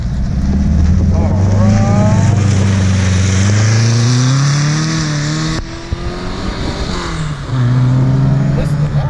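A modified 1968 Porsche 912's engine drones and revs up and down close by inside the cabin, rising in pitch, with a brief dip as gears change.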